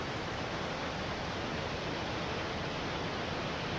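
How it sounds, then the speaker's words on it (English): Waterfall on a river crossing, a steady dense broadband roar of rushing water, loud and continuous throughout with no other sounds standing out. "Waterfall."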